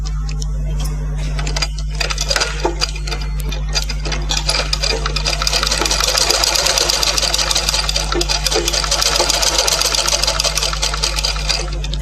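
Sewing machine stitching a blouse sleeve runs in a steady, close, rapid mechanical whir under a low electrical hum, continuing throughout with no talking.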